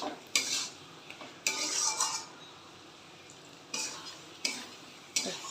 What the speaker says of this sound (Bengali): এবার মশলাটা ভালো করে কষতে দেবো